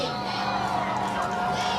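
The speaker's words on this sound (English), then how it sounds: "A big crowd here for Crockett County, and a nice crowd travels here from Ripley." At a high school football game between Crockett County and Ripley, a large crowd fills the stadium with continuous cheering and shouting, with a voice speaking over the crowd noise.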